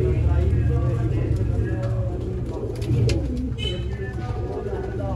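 Iranian Banke pigeons cooing steadily in a loft, their low murmuring calls close and continuous beneath a busy background of birds and a faint vehicle hum.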